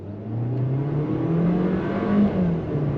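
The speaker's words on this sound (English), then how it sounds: "we're gonna go on throttle from a dead stop with the new 8-speed automatic transmission" A 2025 Volkswagen Taos SEL 4Motion small SUV with an eight-speed automatic pulls away from a dead stop, its engine note rising steadily as it gains speed, heard from inside the cabin.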